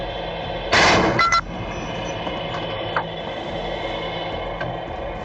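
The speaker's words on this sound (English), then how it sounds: "published a recording of the Russian air defense captain opening fire on the airliner" Gunfire from a Russian air defense unit opening fire on an airliner: one loud burst about a second long, followed by a couple of faint later thuds over a steady background hum.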